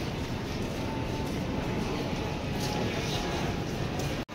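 At night on platform 4 of Kolkata station, a train that arrived long ago stands waiting. Its loud, continuous rumble fills the air with broadband station noise, and nearby voices murmur underneath.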